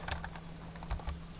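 A computer keyboard clatters under quick typing, a short run of soft, close keystrokes over a steady low hum.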